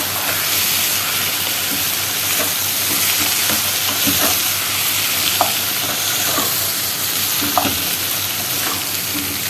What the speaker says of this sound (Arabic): هنشوحهم بقى كلهم كده مع بعض